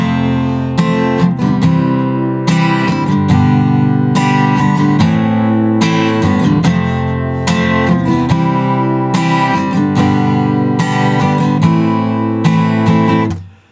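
Acoustic guitar strums the chorus of a song in close, loud, evenly timed chord strokes, ringing alone and then cutting off sharply at the end.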